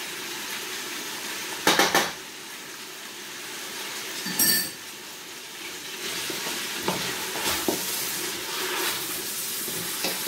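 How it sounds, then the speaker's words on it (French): Vegetables frying in a pan for a vegetable couscous after tomato paste and fresh tomato are added, a low steady sizzle broken by a few sharp stirring scrapes and clinks of a utensil against the pan. "Et laisser frire un petit peu encore."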